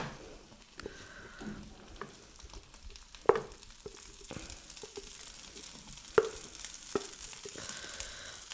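Mashed potato frying with spices in a pan, a soft steady sizzle broken by occasional sharp scrapes and knocks of a spoon stirring, close and fairly quiet with no talk.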